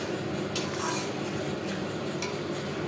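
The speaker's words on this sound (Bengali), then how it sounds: "আবার ভালো করে কষাচ্ছি দেখো মশলাটা" Prawn masala with spices sizzles and fries in a pan while a spoon stirs and scrapes it, giving a steady loud frying hiss broken by a few sharp metallic scrapes, close up and with no talking.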